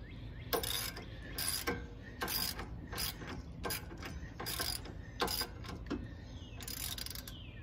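A 17 mm socket ratchet works on the bolts of a Rough Country steering stabilizer on a Ford F-250. It makes repeated bursts of sharp clicking ratchet strokes, loud and close, separated by short pauses.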